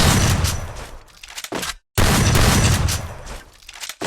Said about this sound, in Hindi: देखो इसको ऐसा हेडशॉट मारते हैं